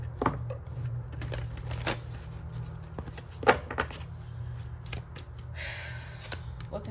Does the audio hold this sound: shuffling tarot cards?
yes